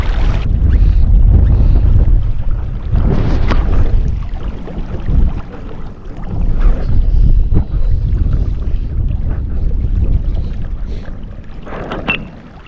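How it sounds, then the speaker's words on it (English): Wind gusting by a river on a cold spring day while salmon fly fishing, buffeting loudly and continuously with rough surges across the whole stretch. "This wind is making it very entertaining"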